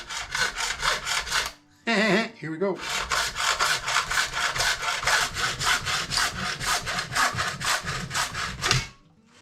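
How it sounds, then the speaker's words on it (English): A handsaw cuts through a drill body, laid parallel to its base on a shopmade fuel dolly project. Steady back-and-forth strokes run close and loud, briefly pausing once, with a short spoken phrase. "I'm going to try and cut it right here and parallel with the bottom of the drill body."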